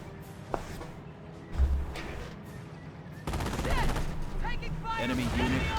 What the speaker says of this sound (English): And multiple AT gun shots there quickly rips it apart.